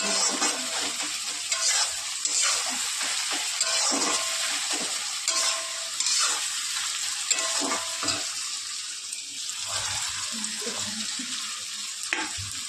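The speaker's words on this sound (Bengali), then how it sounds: "কাঁচা লঙ্কা পেঁয়াজ টমেটো আর রসুন টমেটো ভাজা ভাজা হচ্ছে" Tomatoes, green chilies, onion and garlic sizzle and crackle in a hot pan, with occasional scraping and stirring strokes close up; nobody speaks.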